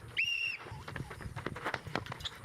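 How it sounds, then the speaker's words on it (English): A referee's whistle blown once to start a bike race at a summer games event, a bright sustained blast near the start, followed by footsteps and movement noise. "We're going to get these gentlemen started on the blow of my whistle."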